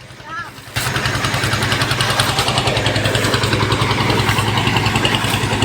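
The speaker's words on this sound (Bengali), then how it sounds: "দেখেন একসাথে দুটি ট্রলার যাচ্ছে" Two river trawler boats chug past on a tidal river near Barishal, their engines making a loud, steady pulsing throb that sets in abruptly after a brief quieter moment and holds close by.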